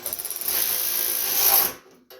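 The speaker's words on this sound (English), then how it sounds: "I'm going to use a ratchet wrench on this one, make it a little easier." Ratchet wrench turning 7/16 bolts on a Gilson rear tine garden tiller, quick clicking strokes at first, then a longer grinding ratchet run that stops abruptly, close and without talk.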